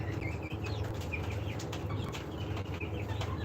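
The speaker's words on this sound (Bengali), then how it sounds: "এই মুরগিটা দেখেন কত বড় হয়ে গেছে মুরগিটা" Laying hens about 47 days old on a poultry farm cluck and chirp in soft, scattered calls over a constant low mechanical hum of the shed.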